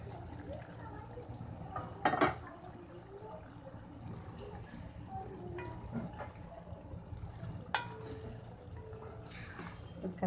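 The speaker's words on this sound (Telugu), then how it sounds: "ఇందులో మనం ఇప్పుడు వేయించిన బెండకాయలు వేసుకోవాలి." Fried okra tipped into a simmering masala curry in a pan gives a couple of brief clatters and a soft sizzle against quiet kitchen background noise.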